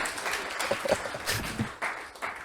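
Brief scattered clapping from a small group, a few uneven bursts of hand claps, fairly faint and close, with a hint of voices.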